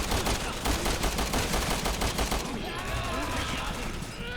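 Rapid automatic gunfire in the game Resident Evil 6: a dense, loud stream of shots for a couple of seconds, then thinner, scattered fire under game effects, with voices mixed in.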